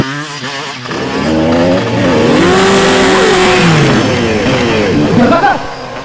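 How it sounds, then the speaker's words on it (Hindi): Motorcycle engine revving hard during a stunt bike jump in a crime drama chase, loud and continuous with pitch sweeping up and down across the clip, with voices mixed in. "जिस तरीके से इसने बाइक का स्टंट किया है"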